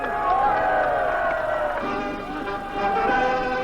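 Delegates at the 1980 Republican convention cheer Ronald Reagan's nomination in a loud, sustained crowd roar with whoops and shouting that fills the hall without pause.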